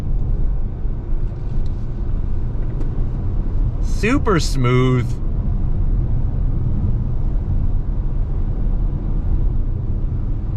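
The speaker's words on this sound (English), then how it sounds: "look at how this RDX really holds a line nicely all the way through the bend" A 2022 Acura RDX A-Spec Advance sport SUV in sport mode drives through a bend, giving a steady, loud cabin rumble of road and engine noise, with a brief remark spoken partway through.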